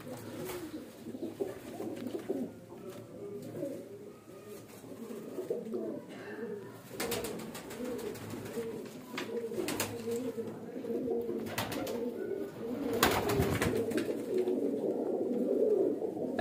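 A flock of breeder pigeons, including golden pigeons, keeps up continuous low cooing, layered and rhythmic, with occasional sharp rustles or flaps breaking through near the middle and end.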